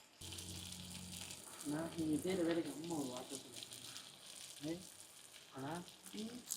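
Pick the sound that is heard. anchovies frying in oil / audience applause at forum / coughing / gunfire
anchovies frying in oil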